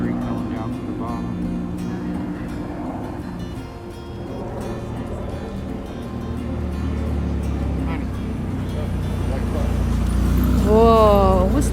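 A Lamborghini sports car passes on the road at Hoover Dam, Nevada; its low engine rumble swells gradually and peaks near the end over steady outdoor background noise.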